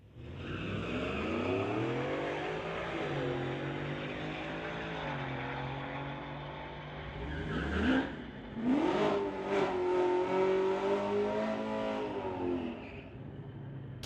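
Drag race between a 1989 Ford Mustang and a 2020 Ford, engines roaring loud and steady close by, rising and falling in pitch through the run, with a sharp burst of revving near the end.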